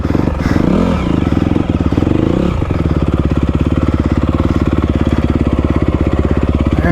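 Motocross bike engine close by, a loud rough rev at first, then settling into a fast, even pulsing chug that runs steadily to the end.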